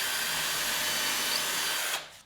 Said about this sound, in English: pull the trigger, gently drill down